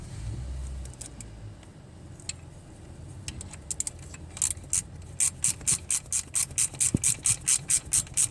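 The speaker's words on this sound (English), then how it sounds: "I decide to use my ratchet" A hand ratchet turns a bolt on a Mercedes ML350 engine, starting with faint scattered clicks and settling into a steady, loud run of evenly spaced ratcheting clicks close by.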